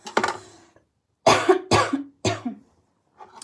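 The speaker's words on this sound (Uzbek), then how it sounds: "Nimagadir yo'talyapman." Close, loud coughing: one cough, a pause, then three harsh coughs in quick succession, ending with a faint breath.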